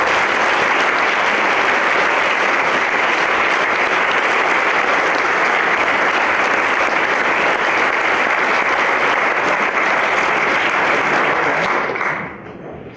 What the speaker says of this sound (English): we should give our speakers another round of applause for that